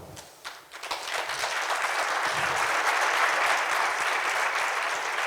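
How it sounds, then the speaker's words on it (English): Roof-shaking applause from a conference audience welcoming a world-champion Toastmasters keynote speaker, starting with scattered claps and swelling into dense, sustained clapping that fills the hall. "please put your hands together to welcome this world champion with a roof-shaking applause"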